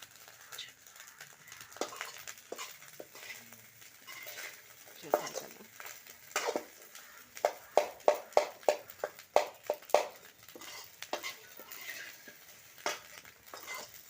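Fish roe frying in a pan with coriander and curry leaves is stirred with a utensil, giving a run of scraping clinks that cluster into quick repeated taps near the middle, over a faint sizzle with no talk.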